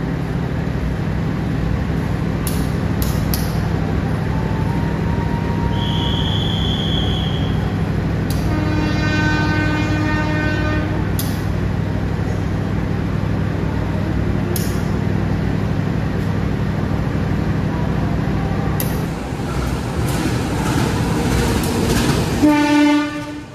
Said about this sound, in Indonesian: Kereta api Jakatingkir tiba di stasiun Purwokerto teman-teman